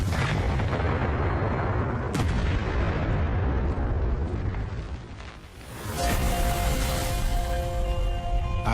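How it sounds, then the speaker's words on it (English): A Nazi coastal artillery gun on the island defenses fires, heard as a loud, sustained booming roar with a sharp crack partway through, followed by ringing, whining tones as the blast fades. "The trolley goes towards the gun and then ready to fire."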